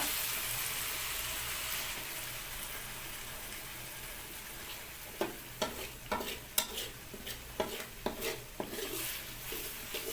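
Tomatoes and spices stirred in a pan for an egg and potato curry: a low simmering hiss, then a quick run of spatula scrapes and knocks against the pan, fairly faint.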